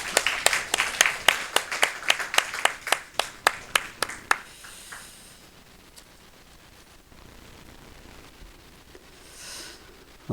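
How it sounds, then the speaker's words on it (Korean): A church congregation claps in a quick, even rhythm for about four seconds during a Sunday morning worship service. The clapping then stops abruptly, leaving quiet room hiss. "우리 박수로 축복하겠습니다."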